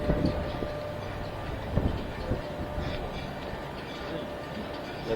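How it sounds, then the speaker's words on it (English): A passenger train at the Railroad Memorial Museum in Altoona, Pennsylvania gives a steady, moderately loud rumble of rolling rail cars, with no talk over it. "Blue train over there."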